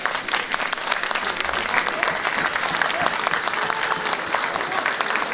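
Dense, sustained applause from an audience at a history book prize ceremony at a historical salon, steady and close throughout with faint talk mixed in.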